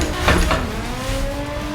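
Nissan 350Z engine in the Assetto Corsa racing game holds a steady, rising rev drone with a brief burst of tire noise near the start, loud and close with no talk.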